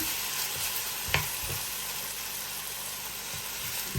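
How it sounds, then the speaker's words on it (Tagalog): Chicken pieces coated in pepper and cornstarch fry in a pan with a constant close sizzle, broken by a few soft clinks and stirring knocks. "Fry lang natin ito. Tuloy lang pag-fry hanggang maluluto natin ito guys."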